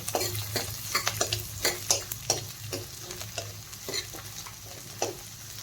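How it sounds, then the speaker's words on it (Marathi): Chopped onion and capsicum sautéed in a pan over low heat for veg manchurian, with a soft sizzle beneath repeated sharp scrapes and taps of a spatula stirring. "तर यामध्ये मी पहा कांदा टाकून घेत आहे शिमला मिरची टाकून घेणार आहे आता मी छान परतून घेणार आहे"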